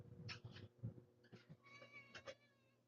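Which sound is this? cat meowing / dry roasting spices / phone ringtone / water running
cat meowing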